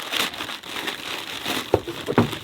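Crinkly rustling of a cardboard box holding a heat pack, handled up close, with a few sharper crackles toward the end.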